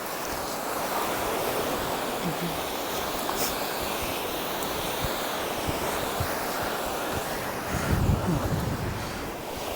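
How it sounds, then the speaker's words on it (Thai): Strong wind blasts across a seashore, a constant loud rushing roar buffeting the microphone, swelling briefly toward the end. "อุ้ยลมแรง ลมแรงค่ะเพื่อนๆ"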